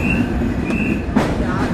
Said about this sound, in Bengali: ইতিমধ্যে আমরা চুয়াডাঙ্গা জেলার চুয়াডাঙ্গা রেলওয়ে স্টেশনের 1 নম্বর প্ল্যাটফর্মে দুর্দান্ত গতি নিয়ে প্রবেশ করছি